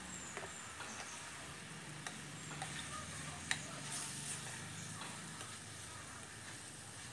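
Chicken sautéing with green masala paste in a pan, a steady soft sizzle broken by scattered light clicks and taps of stirring, one sharper knock in the middle.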